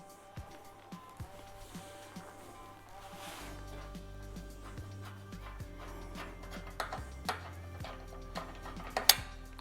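Thumb screws are worked loose by hand and the lid lifted off a tapo-fix CB 56 pasting machine, giving scattered close metallic clicks and knocks over a low mechanical hum, with a few sharper clanks toward the end.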